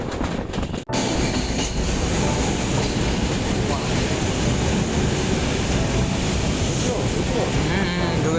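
Inside the Uttar Banga Express travelling at night near Farakka Barrage, a loud, continuous rumble and rattle of the running train fills the whole stretch after a brief drop at the start.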